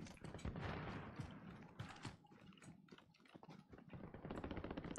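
Rapid gunfire from Call of Duty: Warzone, a battle royale video game, crackling in dense clustered bursts throughout, fairly quiet overall with sharp repeated transients.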